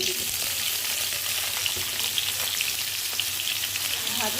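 Beans and potato frying in hot oil in a wok, a steady dense sizzle with small crackles and occasional stirring scrapes, close and continuous with no voices.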